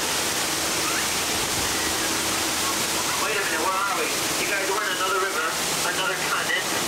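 Waterfall on the Jungle Cruise ride at Magic Kingdom pours in a loud, steady roar of rushing water, with a guide's voice talking over it partway through.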